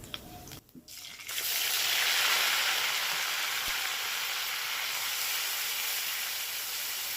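Onion and ground shrimp paste dropped into hot oil with black cumin, bursting into a loud, steady hiss and sizzle after a short clatter, continuing close and even to the end.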